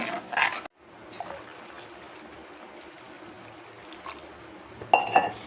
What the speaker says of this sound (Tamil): இந்த குழம்ப நான் கொஞ்சம் தண்ணி ஊற்றுறேன் இதில்